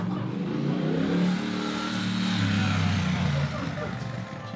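Motorbike engine revving with a rising then falling pitch, fairly close and steady for a few seconds before easing off, with voices and studio noise underneath.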